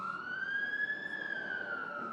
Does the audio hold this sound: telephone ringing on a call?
no